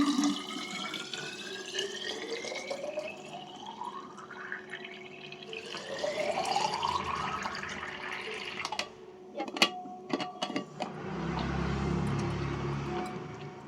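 Tap water pours into children's school water bottles, close and steady. The pitch of the filling sound rises again and again as each bottle fills, ending in a low splash near the end. No one speaks.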